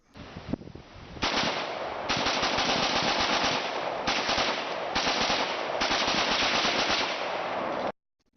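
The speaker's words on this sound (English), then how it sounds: "you probably just seen now how the Vegas shooter could have facilitated bump fire from up in the air" Rapid bump-fire gunfire plays back from a recording, several long bursts of near-continuous shots separated by brief pauses, loud and harsh, with no voices.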